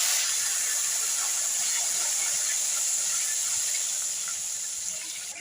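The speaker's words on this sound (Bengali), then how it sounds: "আমি আলু আর বেগুন সামান্য ভেজে নিব।" Potato and eggplant pieces frying in hot oil, a dense steady hiss of bubbling oil held evenly throughout and fading slightly at the end, close and continuous with no talk.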